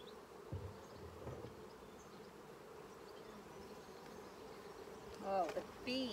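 Honey bees buzz in a sustained, droning hum during a beehive inspection, close and steady, with a few brief knocks and a short voice near the end.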